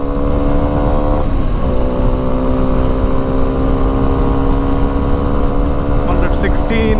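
Onboard Suzuki V-Strom SX 250 motorcycle engine pulls hard through the upper gears, a loud sustained tone with a brief dip at a shift, wind roaring throughout while the rider talks over it.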